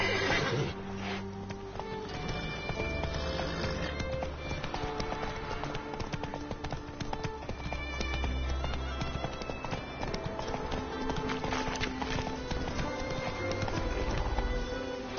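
Roach, Geralt's horse in The Witcher 3, gallops with continuous rhythmic hoofbeats and occasional snorts and whinnies, set against game ambience and faint music, steady and fairly close.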